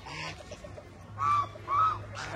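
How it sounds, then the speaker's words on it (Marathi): At a countryside camp in Karjat, a rooster gives two short, close clucking calls in quick succession over a quiet background, with faint bird sounds around it. "ते कोंबडा"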